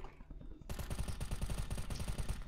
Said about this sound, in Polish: Strzałem w typa 5 razy i 3 kulki lecą w ogóle w bok.